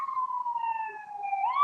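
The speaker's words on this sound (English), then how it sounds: "You got an ambulance or a policeman getting ready to go by." A single ambulance siren wails steadily as it passes, its tone gliding slowly downward before rising sharply at the end, fairly clear against a quiet, frosty rural background.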